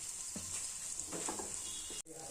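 Masala paste for vegetarian ghugni frying in a pan over a lowered flame, a soft continuous sizzle with a few stirring scrapes, faint overall, cut off abruptly near the end.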